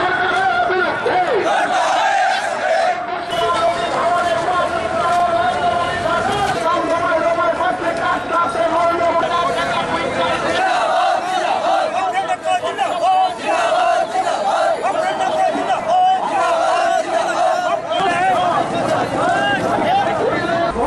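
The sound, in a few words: protesting farmers' crowd chanting at a road blockade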